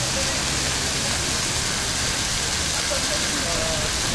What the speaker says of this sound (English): More fountains.